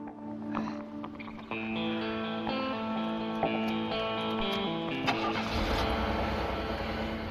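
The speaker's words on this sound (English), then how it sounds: "My heart rate just went up when you started that engine." A car engine cranks and fires up, then settles into a loud, steady running drone with a strong tonal hum and a rougher surge near the end.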